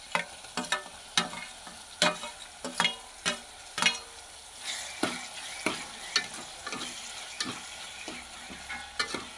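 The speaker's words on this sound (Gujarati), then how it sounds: "ટમેટું નાખીને હલાવી દેવું" Chopped tomato is stirred into roasted eggplant frying in a pan, with a low sizzle under repeated close scraping strokes of a spoon, a steady rhythm of soft clacks and scrapes.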